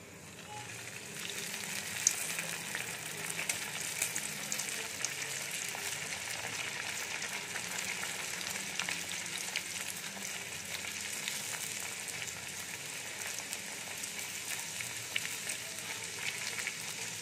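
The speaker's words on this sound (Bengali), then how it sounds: "এবারে আমি ডালপুরিগুলো একে একে ভেজে নেব।" Dal puri frying in hot oil gives a continuous, even hiss and crackle, moderately quiet and steady throughout with no voices over it.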